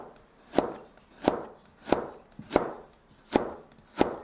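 A knife julienning radish on a cutting board strikes six crisp, evenly spaced chops about two-thirds of a second apart, close and fairly quiet, with no talking.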